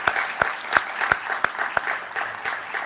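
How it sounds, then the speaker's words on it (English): A small audience at a mental health policy speech claps for a health department team, the individual hand claps sparse and distinct, in a steady rhythm. "Let's just give them a round of applause, please"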